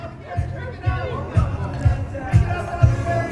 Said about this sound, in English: we got folks in the crowd going ahead and cheering them on